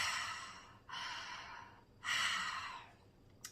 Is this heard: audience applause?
no